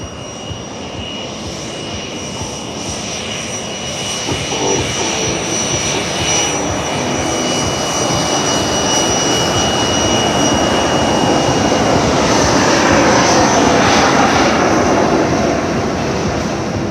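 An F-15C Eagle jet makes a fly-by on afterburner at the 2024 Dover AFB air show, a loud, sustained roar that swells steadily over the whole stretch with no voices.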